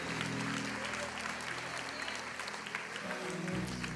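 A church congregation claps together in dense, continuous applause, with crowd voices and a low sustained organ or keyboard chord running beneath.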